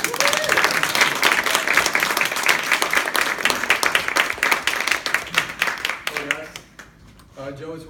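Dense, loud applause fills a Toastmasters club meeting for about six seconds, then thins out and fades as a voice begins speaking.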